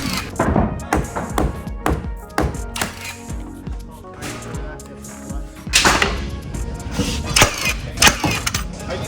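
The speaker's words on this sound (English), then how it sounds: "Are you done nailing this in yet?" Hammer blows driving nails into a wooden marker at a trade school, a run of sharp, irregular taps and thunks up close, with workshop clatter in the pauses.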